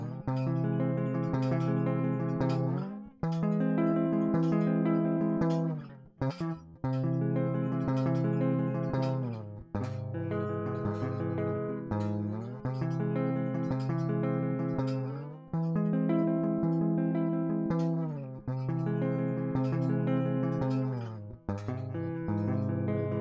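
Guitar chords on the bottom four strings ring out one after another, each strummed chord sustaining for a couple of seconds before the next, clean and alone.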